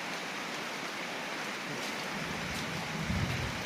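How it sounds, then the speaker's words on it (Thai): Steady, heavy rain pours down over Bang Khae, Bangkok, in a continuous hiss, with a faint low rumble building toward the end. "ฝนตกค่ะพี่น้องฝนตก"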